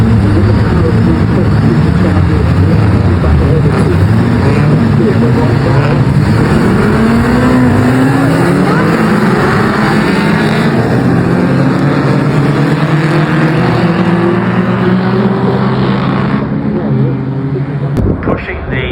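Race cars scream past on the big straight at Brands Hatch during an Equipe race weekend, engines loud and continuous with rising and falling pitch sweeps as they pass, a commentator talking over the noise.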